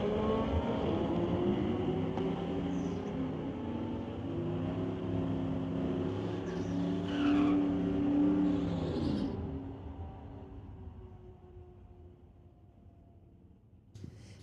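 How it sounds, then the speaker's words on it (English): A Corvette and a 2019 Camaro race down a drag strip at a street-legal event, their engines droning loudly at a sustained roar before fading away into the distance. "Dan Slanina in his Corvette going against Sean Mercer in the 2019 Camaro."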